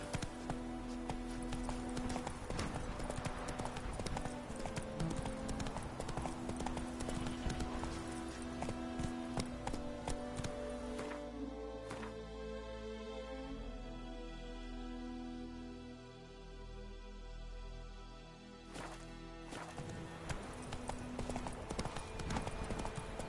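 Horse hooves clip-clop steadily in The Witcher 3 video game, a regular rhythmic trotting that slows and thins midway before picking up again, with game music and ambience underneath.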